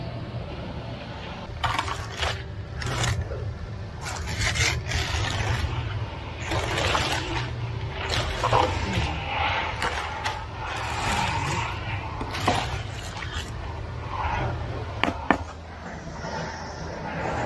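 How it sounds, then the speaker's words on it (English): Scraping at a concrete patio slab, with repeated gritty scrapes and clanks, irregular and fairly close, over faint background noise and no clear talk. "I was just trying to scrape it."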